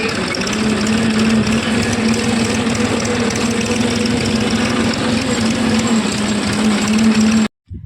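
A tractor engine runs loud and close with a steady low droning hum and rhythmic chugging, cutting out sharply just before the end.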